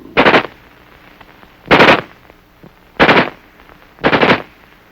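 Four loud, close bursts of automatic fire from an XM16E1 military rifle, each lasting about a third of a second, separated by short pauses with no talk.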